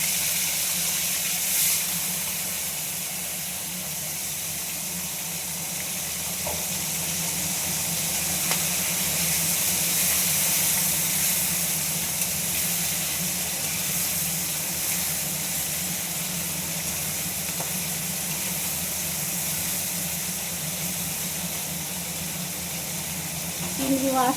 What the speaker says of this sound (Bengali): ফোড়নটা হয়ে এসছে, এবার আমি এর মধ্যে চিংড়ি মাছটা দিয়ে দিলাম।